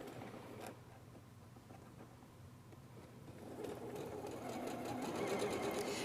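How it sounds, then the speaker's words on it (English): Sewing machine stitching quilt seams on an Aloha Stars quilt, a steady mechanical whir and rapid needle clatter that pauses briefly, then runs faster and louder, close by with no talking. "Now I'm going to stop and do a little back stitch."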